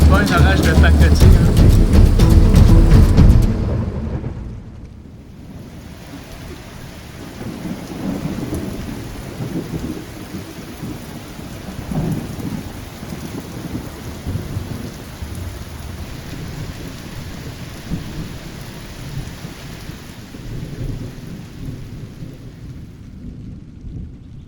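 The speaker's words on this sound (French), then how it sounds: "C'est pas un orage de pacotille." A heavy Florida thunderstorm during an outdoor survival challenge: loud, excited voices at the start give way to a steady close hiss of pouring rain with low thunder rumbling beneath.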